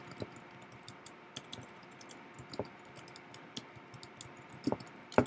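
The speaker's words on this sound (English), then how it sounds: "Excuse me, typing." Quiet keyboard typing, a scatter of soft key clicks at an uneven pace, with a couple of louder taps near the end.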